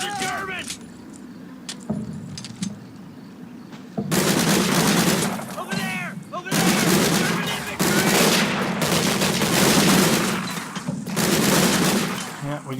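Thompson submachine guns rattle off in repeated bursts during a street fight in the Combat Mission war game, loud and sustained, with voices talking over the gunfire.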